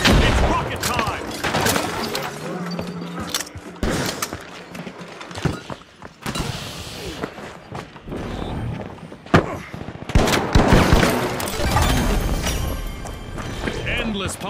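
Rocket launcher explosions and rapid gunfire fill a 3 vs. 3 vs. 3 match of The Finals video game, with bursts of shots and thumping blasts recurring throughout under a voice speaking over the action.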